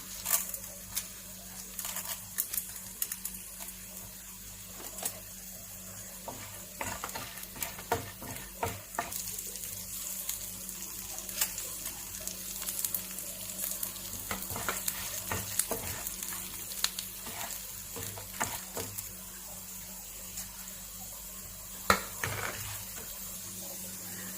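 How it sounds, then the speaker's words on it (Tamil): Chana dal and urad dal frying in about a teaspoon of oil for an Udupi-style pumpkin curry, a soft ongoing sizzle with repeated scraping stirs and clinks, close and without talk. "ஃபர்ஸ்ட் கடலை பருப்பும் உளுந்தையும் நமக்கு ஃப்ரை பண்ணி எடுக்கலாம்."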